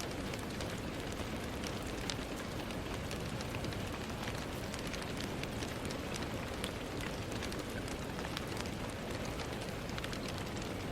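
Steady, dense rain falls throughout on a rainy night, a constant broadband hiss with scattered brighter drop ticks on hard surfaces, even and unbroken with no voices.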